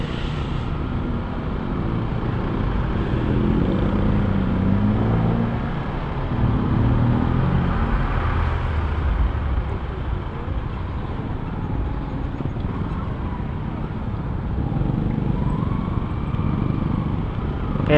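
Motorcycle riding on Marcos Highway, a steady loud rumble of engine and wind heard from the rider's position, with no voices.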